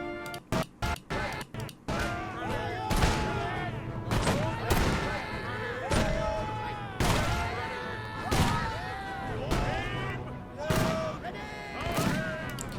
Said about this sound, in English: So that's the platoon fire of Empire